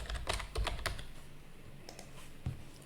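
Someone types a password on a computer keyboard: a quick burst of crisp keystrokes, then a pause and a couple more taps, close and clear in a quiet room.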